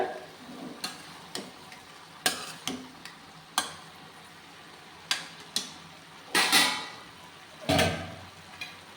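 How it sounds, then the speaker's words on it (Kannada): Broad beans and potato curry stirred in a pan, a spoon scraping and clanking against the metal in repeated bursts, with soft sizzling in between and no talking. "ಇದನ್ನು ನೀಟಾಗಿ ಮಿಕ್ಸ್ ಮಾಡಿ ಬೇಯಕ್ಕೆ ಬಿಡೋಣ"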